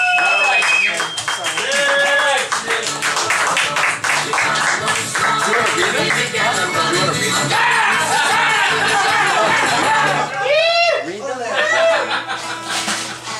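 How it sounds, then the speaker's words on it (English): An audience claps and cheers steadily, mixed with laughter and chatter, while voices call out over the crowd throughout. "Give Sid a round of applause."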